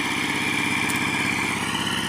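Tractor engine running near a rice paddy where water is being pumped, a steady, loud, close chugging drone with an even, rapid throb and no voices.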